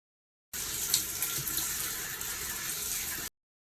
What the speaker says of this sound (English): he's in the shower right now